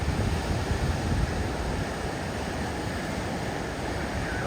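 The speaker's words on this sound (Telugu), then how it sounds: "అలల సౌండ్ మాత్రం అద్భుతంగా ఉంటుందండి" Ocean waves wash steadily onto a sandy beach at Myrtle Beach, a continuous broadband rush of surf and wind with a slightly louder swell at the start and no voices.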